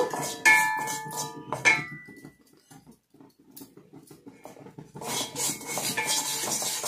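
Dry turmeric powder roasting in an iron pan, heard as metallic scraping and clinking of a utensil against the iron, loud at first, then a quieter stretch, then busy scraping again.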